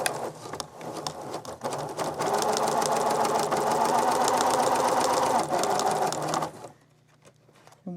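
A sewing machine stitches quilt blocks together with nested seams, starting with a few short bursts, then running in a steady rapid whir for several seconds before stopping.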